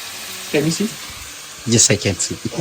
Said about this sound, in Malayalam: ചിക്കന്റെ പല ഭാഗങ്ങളും എണ്ണയിൽ കിടന്ന് പൊരിഞ്ഞ് കളർ മാറി